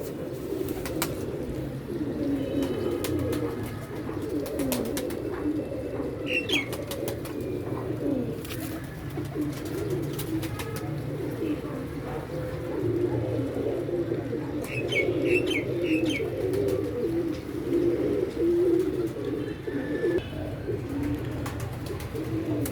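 Pigeons coo steadily and softly throughout, with a few faint chirps mixed in over a continuous low background.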